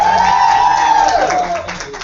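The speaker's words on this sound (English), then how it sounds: "let's give Brittany a big round of applause" An audience cheers and claps for Brittany at a Thursday night motivation event, with a loud whoop or whistling voice riding over the crowd noise before it fades slightly near the end.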